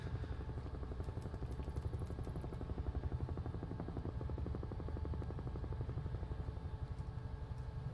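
A Huey helicopter in Microsoft Flight Simulator makes a steady rhythmic rotor chop over an engine drone, continuous and even throughout, with no voices.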